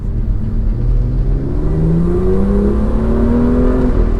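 A vehicle engine climbs the Stelvio Pass road in the Alps, revving steadily and rising in pitch as it pulls uphill, loud and close with no talk.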